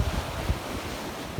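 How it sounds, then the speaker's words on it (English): Rough surf breaks against rocks along a beach on Captiva, a continuous low rumbling wash with brief surges, mixed with wind buffeting the microphone and no voices. "I'm watching these waves break on these rocks."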